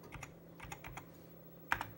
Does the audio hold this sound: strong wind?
no